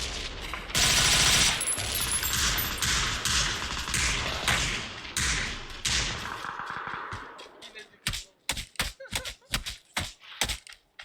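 AUG assault rifle fire in the battle royale game PUBG: dense rapid bursts of automatic gunfire that break into a string of sharp, separate single shots near the end, close and loud.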